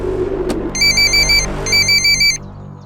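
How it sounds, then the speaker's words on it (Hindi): A telephone rings during a call in a Hindi TV drama, sounding two bright, evenly pulsed ring bursts over a low steady background hum. "मैं तेज को फोन करके देखती हूँ।"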